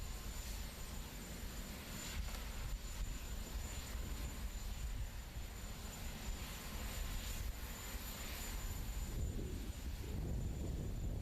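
Steady broadband engine roar of a helicopter departing the White House lawn, a continuous loud drone with rotor rumble throughout and no voices.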